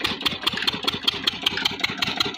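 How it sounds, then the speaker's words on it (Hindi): A diesel engine running a water pump setup idles after starting, with a close, steady rapid chugging pulse and rhythmic mechanical clatter. "लुक हमारा इंजन स्टार्ट हो चुका है"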